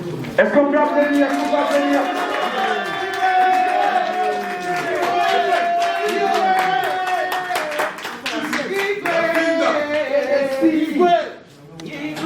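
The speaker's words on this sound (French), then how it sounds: "Est-ce qu'on peut applaudir?" Audience applauding at a press conference, with rhythmic clapping and crowd noise running under loud, overlapping voices and shouting before the sound drops away near the end.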